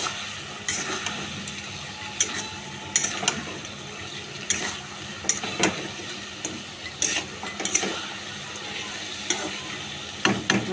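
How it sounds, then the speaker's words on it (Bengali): Fish heads frying in a pan for a home-cooked fish curry: a steady, close oily sizzle with scattered sharp crackles and spatters, plus occasional stirring clatter, and no talking. "এখন মাথাগুলো ঢেলে দেবো, তারপরে ভাজা হয়ে গেলে"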